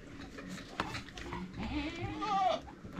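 Large goats, one of them pregnant, bleat on a farm in the hills of Uttarakhand, with a close, wavering bleat rising over rustling and faint voices nearby.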